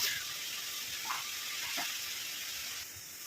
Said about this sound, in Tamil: நல்லா இப்போ கொதிக்க ஆரம்பிச்சிருச்சு பாருங்கள்